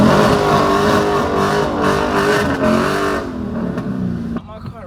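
A Dodge Hellcat drifting in the rain, its engine roaring loudly at high revs for about three seconds, then the revs fall away and the sound quickly fades, with some talk mixed in.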